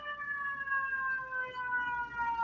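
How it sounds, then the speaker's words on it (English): Several sirens from fire trucks and police cars passing along a main street wail in steady, slowly falling tones, loud and continuous over low traffic rumble. "this is a lot of fire trucks and police cars"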